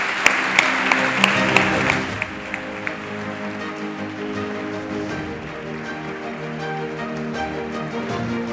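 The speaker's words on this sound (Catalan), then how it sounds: "Un aplaudiment per ell." Audience applause at the Carles Rahola local communication awards ceremony: dense clapping from a sizeable crowd, loudest at the start with a few sharp peaks, then settling into a steady, slightly fading wash under a low hum of room sound.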